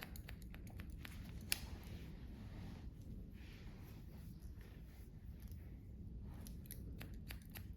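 Scissors snipping hair while cutting piecey bangs on a layered bob, a quiet series of short, crisp clips spread irregularly over a low steady background hum, with one sharper snip standing out.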